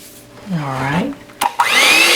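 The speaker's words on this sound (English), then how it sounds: "Now we beat the mix approximately 2 minutes." An electric mixer beating peach bread batter, a loud whirring drone that shifts in pitch as the beaters work, with a brief clatter midway and the motor rising steadily toward the end.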